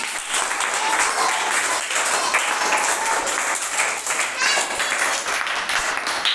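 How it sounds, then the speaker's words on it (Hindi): Children applauding together in a classroom after a tied number-game activity, a dense, steady clapping that runs the whole time, with some voices mixed in. "इसका और ताली बजाइए, इसका और ताली।"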